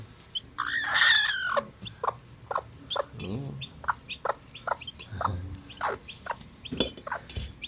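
Three baby chicks peep close by in a series of short, high, thin chirps, one cheep after another with brief gaps and a few louder bursts, alone without talk.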